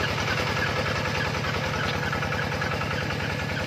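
An engine-driven water pump draws water from a stream, its small motor chugging at a steady, even idle with a rhythmic low pulse, close and continuous, heard alone.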